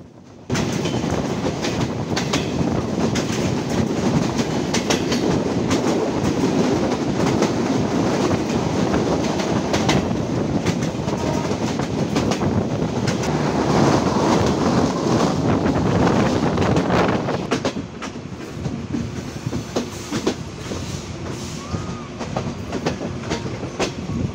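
Chitra Express passenger train rolling on the rails in Bangladesh, heard from on board: a loud continuous rumble with clickety-clack of wheels and heavy wind buffeting the microphone, easing slightly toward the end.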